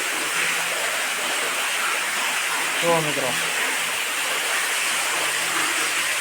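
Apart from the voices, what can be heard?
water gushing from a side borewell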